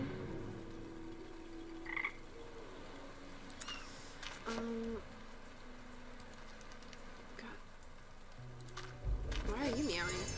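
Frog croaking in the game Grim Legends: The Forsaken Bride, several short croaks scattered among soft game effects and faint background ambience.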